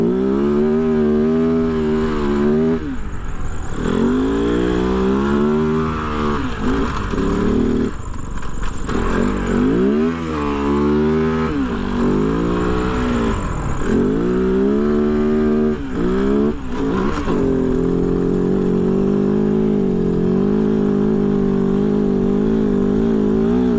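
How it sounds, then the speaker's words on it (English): A Kove FSE 450R rally motorcycle engine labours in third gear while riding on sand. The revs rise and fall repeatedly, loud and close, with no voices. "Struggling to stay in third gear."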